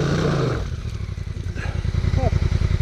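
An Africa Twin motorcycle revs hard with a pulsing, throbbing engine note while its rear wheel digs in on rough ground at Tso Kar, loud and close, with a voice heard briefly at the start.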